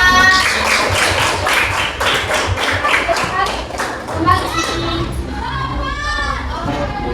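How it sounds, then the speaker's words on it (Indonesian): Schoolchildren in a classroom clap for a group that has just finished its presentation, quick rhythmic claps mixed with lively children's voices and chatter, fading into talking toward the end. "terima kasih kelompok 2, tepuk tangannya mana?"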